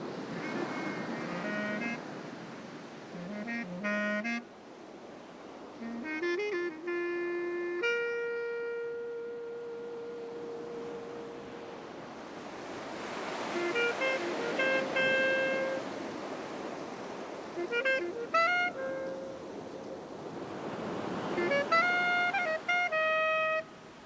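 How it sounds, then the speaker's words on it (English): Ocean surf washes steadily onto a pristine wilderness beach in far northwest Australia, a continuous soft rush heard beneath louder melodic music throughout. "A pristine wilderness beach right up the top end of northwest Australia."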